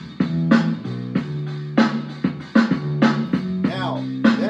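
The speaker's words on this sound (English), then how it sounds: "pattern and will supply bass and drums." A lo-fi groove of bass notes and punchy drum hits repeats in a steady loop, loud and close with no voices.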